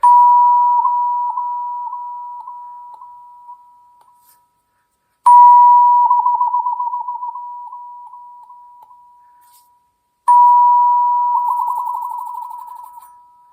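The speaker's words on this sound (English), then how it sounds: "It's called a wah-wah tube, or it can also be called a Vibra-Tone bell." A wah-wah tube, also called a Vibra-Tone bell, is struck three times as a percussion instrument. Each strike gives a loud, pure ringing tone with a pulsing wah-like vibrato that slowly decays over several seconds, with no talking.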